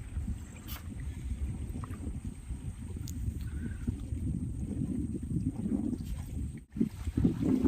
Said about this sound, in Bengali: দেখো দেখো এখানে সারি সারি ভাবে ট্রলার আসছে।